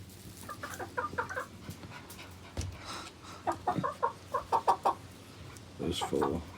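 A rooster clucking in short, choppy bursts, several quick clucks grouped together with brief gaps, close by against faint background noise.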